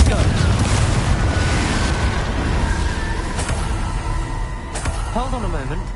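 Confringo blasting spell going off in a Harry Potter video game: a loud, dense rumbling blast that fills the opening seconds and slowly decays, with later magical chirping sweeps and a faint voice underneath.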